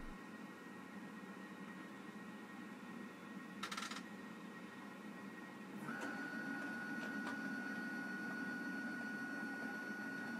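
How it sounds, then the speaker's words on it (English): A Prusa MMU on a Core One L 3D printer pushes filament back and rewinds the reel, a faint mechanical whir and hum with a brief clatter, then a steady higher motor whine. "What you see here is the MMU pushing the reel back and winding it back up."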